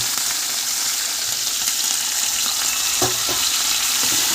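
Dry red chili, tomato and onion frying in a pan for upma, a steady close broadband sizzle with a few sharper stir clicks and pops, no talk.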